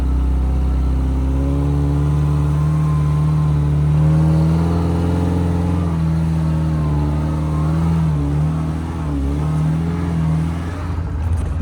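A Suzuki Samurai in 4 low and second gear climbs a steep hill, its engine droning loud and steady close by, with the note wavering under strain as it pulls upward.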